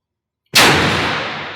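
A Jarvis PAS C-Type long-handle cartridge stunner firing once into a dense test block: a sudden loud, sharp crack after silence, followed by a ringing decay.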